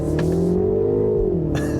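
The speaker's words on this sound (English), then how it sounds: "The sound is definitely synthesized in this car, but I like the sound." A 2025 Mini Countryman S accelerates with a synthesized engine sound, a smooth, steady hum that climbs in pitch and then eases off, heard loud and close from inside the car.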